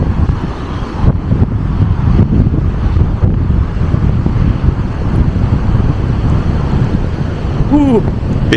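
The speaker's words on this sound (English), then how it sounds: "Bit windy today." Strong wind buffets the microphone at a seaside beachfront, a loud continuous roar with gusty swells throughout, and a voice speaks briefly over it.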